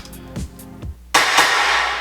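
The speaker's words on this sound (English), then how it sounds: "I added these really cool ambient reverbed claps" A few sparse, echoing low thuds, then a sudden bright, reverberant burst of ambient reverbed claps in a disco beat that sustains and slowly decays.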